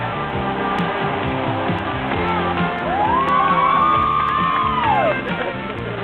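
Cheering fans at a truck show arena, a steady crowd din with yells and whoops rising and falling, heard at moderate distance with a continuous hubbub beneath.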